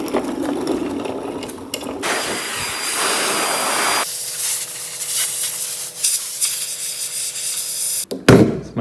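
Compressed air blasting water off freshly rinsed VW Beetle chassis parts, a loud steady hissing rush that shifts in tone as the nozzle moves, broken by brief pauses and ending in a short burst.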